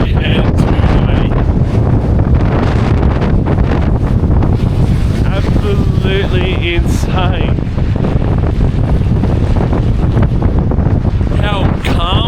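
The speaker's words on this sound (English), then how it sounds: "The wind is literally pushing me." Strong gusting wind buffets the microphone in snowy Reykjavik, a loud continuous roar across the whole stretch, with a person speaking briefly over it.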